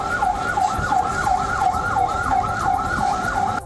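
An ambulance siren in Gaza wails in a steady, repeating up-and-down cycle, loud and close, over a background of traffic rumble.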